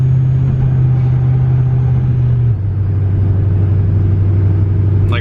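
An LS-swapped Mazda with a 6-speed transmission drives on the street, its engine giving a loud, steady low drone from inside the car with a shift in pitch midway, no talk.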